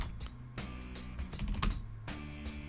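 Typing on a computer keyboard while entering terminal commands in a Kali Linux penetration-testing lab, a few close, sharp key taps spaced through a short stretch with a steady low hum underneath.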